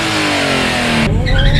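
A turbocharged Nissan 350Z making about 400 wheel horsepower revs loudly up close, a rising engine tone that cuts off sharply partway through into a lower, rougher note.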